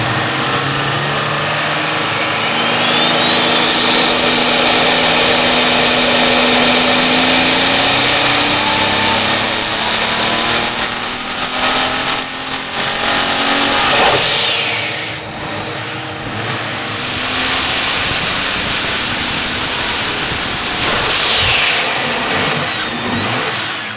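Turbocharged Jeep engine on a dyno at 20 psi of boost, loud and close: it revs and climbs steadily with a rising whine, drops off briefly around the middle, then roars again at high load before easing down.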